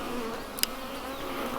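Worker honey bees hum in a steady, even drone around a hive. The buzz stays close and continuous, with one brief tap partway through and no voices.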